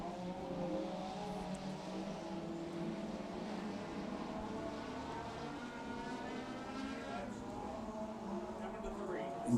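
Race cars in a local-class heat race at Lake Cumberland Speedway, a steady roar of several engines running together at a distance, with a race announcer talking over it throughout.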